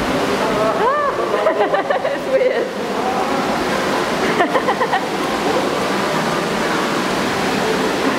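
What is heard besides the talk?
water flowing down the waterfall walkway at teamLab Planets, Tokyo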